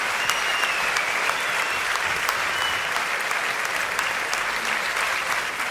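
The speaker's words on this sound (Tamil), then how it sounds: "அது உங்களது பலத்த கரகோஷம் மட்டுமே அதை நிச்சயம் செய்யும்" Thunderous audience applause in a large hall, a continuous, even roar of many hands clapping with faint whistles on top, loud and unbroken from start to finish.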